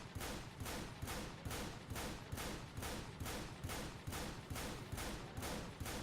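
Rapid automatic gunfire from Earth Defense Force 5 rattles steadily against a wall in a dense, unbroken burst of evenly spaced shots lasting several seconds, loud and close with no talking.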